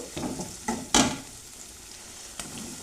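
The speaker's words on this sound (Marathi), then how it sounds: "वाटण सोडलंय, चांगलं परतून घेऊ" Onion and spice paste sautéing in a pan, a soft continuous sizzle broken by a few distinct scrapes and knocks of a spoon stirring, close by with no talking.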